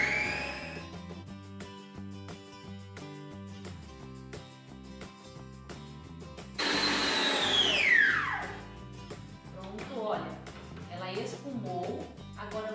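Electric mixer whirring steadily through a maria mole mixture, loud and sustained across the clip with a sharp surge midway as the beaters churn and foam it, backed by music.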